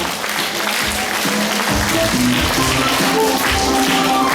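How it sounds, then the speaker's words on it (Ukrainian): Audience applause for a children's folk dance ensemble leaving the stage at a Kyiv performance, steady dense clapping filling the whole stretch with a faint tonal murmur beneath. "а ми проведжаємо їх оплесками"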